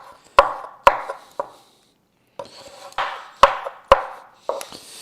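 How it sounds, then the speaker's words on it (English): A knife chopping red wine braised pork shoulder on a cutting board, sharp irregular thunks with a short pause midway, close and crisp, about nine strikes with no voice. "then I'll just take these big pieces and just kind of chop them up"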